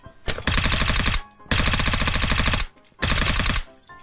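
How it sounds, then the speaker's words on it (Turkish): Rapid automatic gunfire from a gun in the video game Minecraft, three loud sustained bursts separated by short pauses. "Zor durumda silah kullanıyorum"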